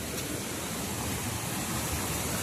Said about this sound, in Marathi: इकडून पाणी बघा कसं येतंय